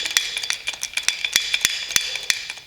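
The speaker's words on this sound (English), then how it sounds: "Then you take a hammer and you hit the axle itself to drive that pin up into the axle to seat it." A hammer strikes a Mack R686ST truck axle to drive a pin up into place, giving a quick series of sharp, bright metallic taps in an irregular rhythm, close and fairly loud, with no talking.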